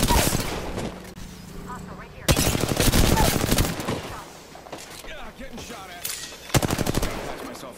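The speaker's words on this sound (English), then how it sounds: "Getting shot at." Incoming gunfire in a shooter video game: loud bursts of automatic fire crack in twice, each lasting a second or more, with scattered shots and game sounds between and a voice talking over parts.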